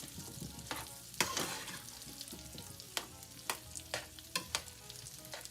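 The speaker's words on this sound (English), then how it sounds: "we're going to continue to stir it and everything" Food frying in a pan and being stirred, a continuous sizzle broken by sharp scraping strokes of a utensil at irregular intervals, close and without speech.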